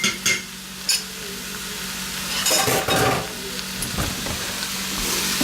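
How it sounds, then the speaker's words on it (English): Eggs tipped onto a butter-slicked hibachi griddle beside pushed-aside vegetables in a home kitchen, sizzling steadily at close range with a few sharp scrapes and clatters of a utensil. "I'm going to go ahead and dump them in there."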